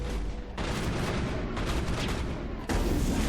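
Shotgun blasts in the Mass Effect video game, loud, heavy booming bursts with dense low-end rumble, a couple of strong discharges in quick succession with no talking.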